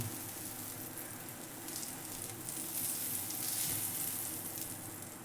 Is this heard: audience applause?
no